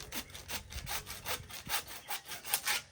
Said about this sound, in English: Just take a handsaw just for construction.